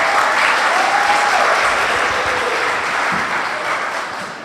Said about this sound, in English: give all of our contestants one more round of applause